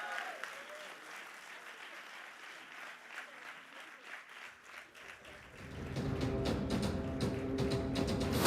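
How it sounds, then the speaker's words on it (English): Convocation audience applauds an award recipient at a graduation ceremony; a steady, moderate round of clapping from a large hall crowd that swells louder and fuller toward the end. "Please give him another round of applause, please"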